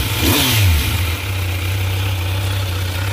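A 2019 Kawasaki Z900 motorcycle engine gives a quick throttle blip that rises and falls, then settles into a steady, loud close-up idle.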